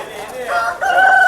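Chickens at a poultry market at Gokura, a rooster crowing loudly with a drawn-out, wavering call that swells partway through, with clucking fowl close by.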